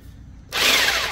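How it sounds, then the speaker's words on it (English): An old, worn jigsaw fitted with a cheap 10 TPI blade starts up after a moment of near-silence and cuts steadily through wood laminate, a loud, close, sustained buzzing rasp with no talking. "I'm trying a different old piece of junk jigsaw today."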